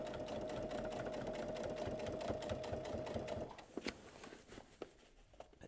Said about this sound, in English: I'm literally sewing on the edge of the binding